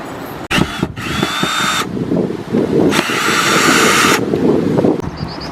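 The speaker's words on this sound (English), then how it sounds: "So now, I'm going to remove all these bolts." Power drill spinning out bolts while removing an old RV water heater, two sustained whirring bursts about a second or more each separated by quieter handling and rattling, close and loud.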